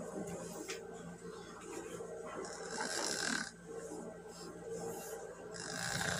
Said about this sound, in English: Hey, you're snoring.